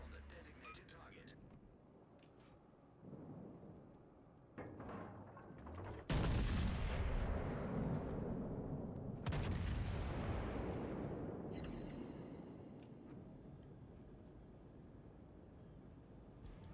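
Naval guns fire in a World of Warships Legends battle, with heavy booming salvos roaring up loud and close, the biggest blasts rumbling and decaying over several seconds, amid quieter background battle noise.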